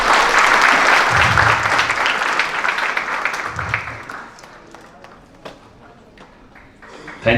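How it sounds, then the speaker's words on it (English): An audience at a value education seminar felicitation applauds warmly, loud sustained clapping that gradually thins and fades over several seconds. "Round of applause, please."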